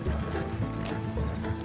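Horse hooves clip-clop in Red Dead Redemption 2, a quick rhythmic run of close hoofbeats from horses pulling along at speed.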